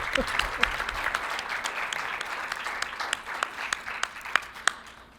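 Applause from a crowd, steady and full, with a few sharper individual claps standing out as it continues.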